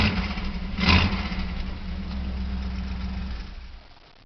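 A Dodge Coronet with a cracked tail shaft housing starts with a short burst from the starter, then settles into a steady, close, low idle that fades at the end.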